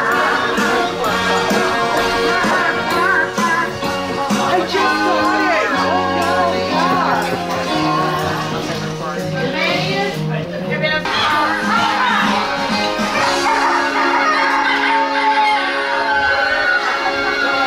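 Loud mechanical singing voices and music from animatronic chickens fill a busy Pigeon Forge restaurant, with crowd chatter and children's voices mixed underneath.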